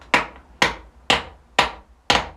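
A hammer strikes a part on a Tekno ET48 RC car five times at an even, steady pace, each hit a sharp, loud, close knock that fades quickly.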